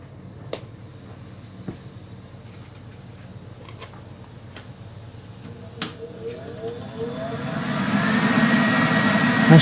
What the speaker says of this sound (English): Machine is on. It's very loud, but you should be able to hear the gas solenoid activating when I jump it.